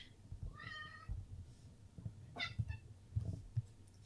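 Cats meow in a quiet room, one drawn-out mew followed by a few shorter, fainter cries over soft background thumps and rustling; no talking.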